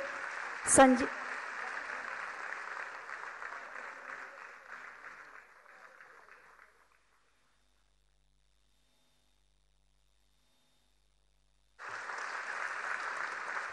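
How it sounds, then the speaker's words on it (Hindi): Steady applause from a crowd at a school inauguration and award ceremony in Varanasi fades out and stops, followed by silence, then clapping starts up again. "जोरदार तालियां होनी चाहिए।"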